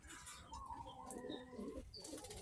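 Racing pigeon, a young bird in a loft, gives low soft rolling coos, several in a row with faint chirps and light rustling around it, at close range and fairly quiet.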